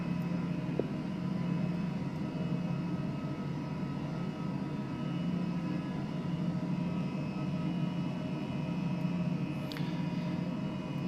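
A Hype Performance H135 helicopter in Microsoft Flight Simulator lifts off from Point Cook, giving a steady, loud turbine and rotor drone that holds evenly throughout, with no talking.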